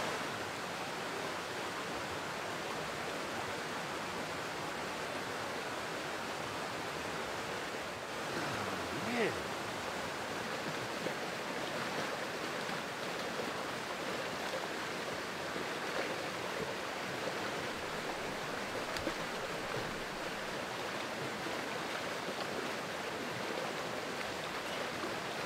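Steady, dense rush of mountain creek water flowing continuously at close range, a broadband wash with no breaks, feeding a Rocky Mountain chicken watering setup.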